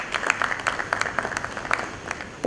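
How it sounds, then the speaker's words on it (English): Audience applause at a seminar on metal as an eco-friendly packaging material, held with guests from the Indian Institute of Technology, Delhi: a steady patter of many hands clapping from a room of listeners, moderately loud and without pause. "can we please welcome him with a huge round of applause?"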